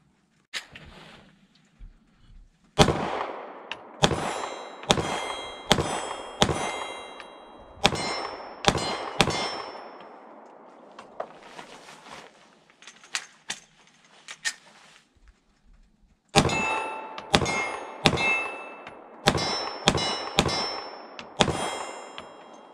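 Steyr M9 A2 9mm pistol fired at steel target plates, loud sharp shots each followed by a bright ringing clang, in rapid strings with a pause midway.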